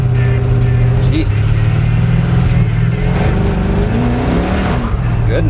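The engine of a 1959 Ford F-100 Shiner truck rumbles loud and close during a ride, holding a deep steady drone with throttle swells and revs as people talk over it.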